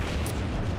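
Warship main battery salvo from the South Carolina in World of Warships: a single dense, rumbling low boom with a brief sharp crack, close and loud, sustaining for under a second.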